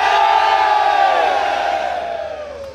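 A metal concert crowd at the Luppolo In Rock festival in Italy cheers and yells for the band, a loud, sustained roar of many voices that slowly fades.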